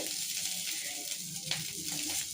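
Onions frying in a little oil with salt, stirred until reddish for a home recipe, giving a soft, steady sizzle close by with occasional scraping stirs.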